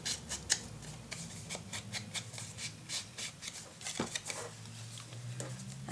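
Scissors snipping paper for a spring deluxe mini album, a quick close run of crisp, light cuts and rustles repeating steadily over several seconds.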